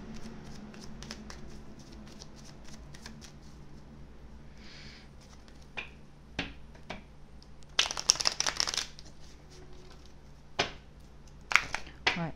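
Seasons tarot cards being shuffled and drawn by hand at close range: soft scattered taps and slides, then a couple of brisk riffling bursts toward the end, over a faint low hum with no talking.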